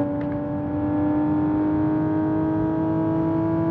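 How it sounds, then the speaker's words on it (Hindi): A Toyota Supra engine in the racing game Drive Zone Online holds a steady, loud high-speed drone, with no distinct crackles standing out. "वैसे इसके जो क्रैकल्स है वो तो भाई आपने सुन ही लिए होंगे"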